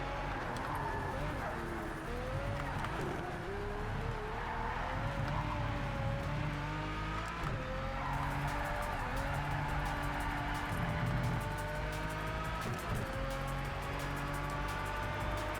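A race car engine drones steadily in the Project Cars 3 racing game on an online lap, its pitch rising and falling through gear changes and corners, loud and continuous throughout with a voice faintly underneath.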